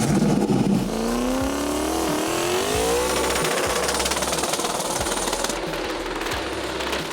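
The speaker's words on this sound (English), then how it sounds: "a 427 cubic inch LME Extreme crate engine was fitted with a big 86mm single turbo" A lightweight bodiless track car with a turbocharged 427 cubic inch LME Extreme LS crate engine and a big 86mm single turbo accelerates hard, its engine note climbing through gears, loud and close, then roaring steadily on.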